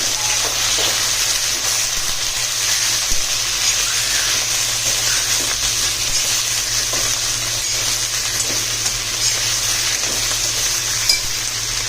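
Coriander stems, ginger and tomatoes sauté in ghee, giving a steady, loud sizzle with hissing steam throughout and occasional soft stirring clicks, no voices.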